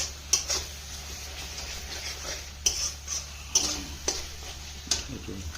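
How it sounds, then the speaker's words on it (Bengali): Ground spices, Kashmiri and regular chilli powder, turmeric, cumin, coriander, sugar and salt, are fried and stirred in a pan, a soft sizzle broken by several crisp spatula scrapes at uneven intervals. "লঙ্কা গুঁড়ো কাশ্মীরি লঙ্কার গুঁড়ো হলুদ গুঁড়ো জিরে গুঁড়ো ধনে গুঁড়ো চিনি নুন দিয়ে এটাকে আবার কষা কষা হচ্ছে"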